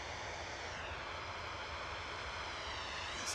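Aircraft taxiing out at Manchester Airport, a steady broadband engine roar holding close and even throughout with no voices.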